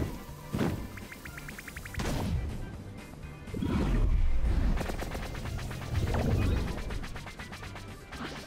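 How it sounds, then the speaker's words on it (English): Bombs exploding in the video game Hauntii, a series of heavy booming blasts with crackling, rattling debris bursts, several loud impacts rolling one after another at close range. "this is a bunch of bombs"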